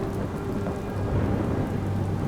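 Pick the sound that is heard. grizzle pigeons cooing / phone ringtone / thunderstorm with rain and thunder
thunderstorm with rain and thunder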